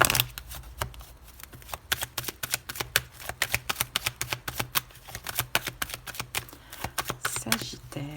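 Tarot cards are shuffled and drawn by hand, a rapid run of crisp riffling slaps and flicks close up, continuing in quick irregular bursts for several seconds.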